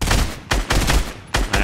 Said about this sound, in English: No, that was me shooting at him.